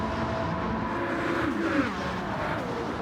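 Race car engines drone steadily in a Gran Turismo 7 race at High Speed Ring, including a Subaru BRZ, a sustained mid-pitched hum with a slight rise as cars pass, no voices.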